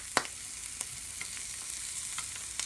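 Bacon frying in a pan during omelette making: a soft, steady sizzle with occasional small pops and crackles, faint and close, no voices.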